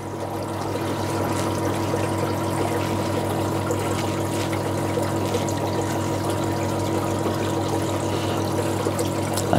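Aquarium water from a flowerhorn fish tank runs steadily in a continuous gurgling flow as it is siphoned out through a tube, unbroken throughout.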